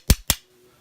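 A bump hammer strikes a Sparrows bump key twice in a Dexter by Schlage lock, two sharp close metallic taps about a fifth of a second apart, followed by near silence.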